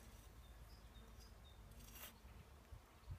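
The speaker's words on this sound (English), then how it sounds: "oh, there's a bee." A bee buzzes faintly near tomato plants in a garden, its thin whine drifting in and out over a soft outdoor background with a few light rustles.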